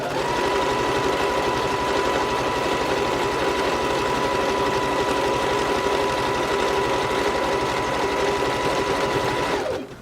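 A sewing machine runs steadily in a continuous stretch stitch along a pant waist seam as fabric is guided through, a loud even mechanical whir holding for nearly ten seconds before stopping abruptly.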